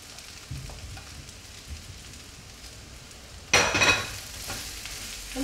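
Potatoes added to hot oil with poppy seeds for the Oriya dish aloo posta bhaja, frying with a steady soft sizzle, then a louder burst of hissing and scraping as they are stirred, close and alone.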